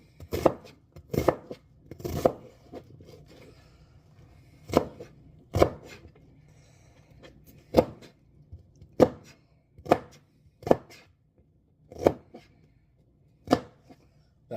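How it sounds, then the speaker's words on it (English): Knife chopping an onion on a cutting board, about a dozen sharp, close thuds spaced roughly a second apart, each standing alone against a quiet background. "So, we're going to start by cutting up this onion."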